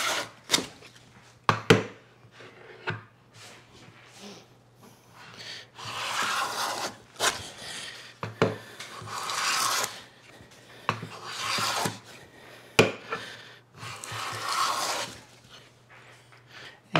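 A wooden hand plane skimming the top of an uneven board to flatten it, a series of rasping, scraping strokes in irregular rhythm, some short and some longer, close and fairly quiet, without speech.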